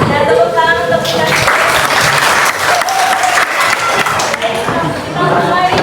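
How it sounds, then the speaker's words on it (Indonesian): An eighth-grade classroom claps steadily for several seconds, a dense, close patter of hands with voices mixed in. "tepuk tangan untuk kita"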